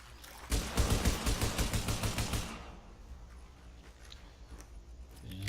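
Rapid pistol fire in the shooter game The Division, a fast string of sharp shots for about two seconds, loud and close, then fading into quieter ambient game noise.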